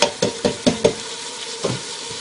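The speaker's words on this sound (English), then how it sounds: "I'm just going to stir that in." A spoon stirs canned whole peeled and diced tomatoes in a hot pan, five quick wet scrapes followed by a softer pause and two more strokes, all over a steady sizzle of frying.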